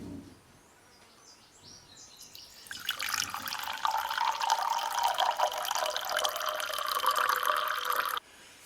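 Water runs from a tap into an ultrasonic cleaner tank, with Purple Power cleaner, for soaking parts from a Poulan Pro 25cc 2-cycle blower. After a quiet start, a steady close splashing fill rises for about five seconds and then cuts off abruptly.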